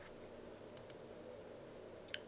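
A computer mouse gives a few faint, sharp clicks, two close together early on and one more near the end, over a quiet, steady background hum.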